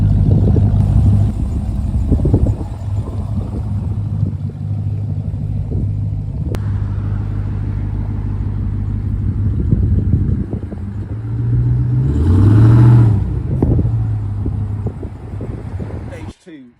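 A Ram TRX truck with a Whipple supercharger rumbles at a car coffee meet, its low engine drone swelling into a loud rev near the end while people talk over it.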